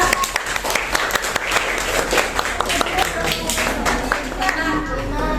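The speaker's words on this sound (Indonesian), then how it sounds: "Tepuk tangan dulu buat kelompok 2." A classroom of students applauds a group after a math presentation, quick overlapping claps forming a lively burst close by, with a little chatter mixed in.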